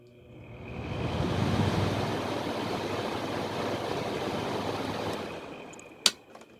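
A fan motor starts up: a broadband whoosh swells over about a second, holds steady and fairly close for several seconds, then winds down and ends with a single sharp click. No talking.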